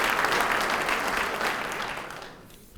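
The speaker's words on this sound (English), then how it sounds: "Another round of applause." Applause rising from an audience at a Springfield, Massachusetts police commissioner event: dense, even clapping that gradually fades toward the end, with almost no talking over it.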